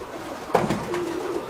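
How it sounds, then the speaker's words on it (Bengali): Local domestic pigeons on a farm give a soft, low coo with a couple of throaty pulses, close by against a quiet background. "হ্যাঁ, দেশি কবুতর।"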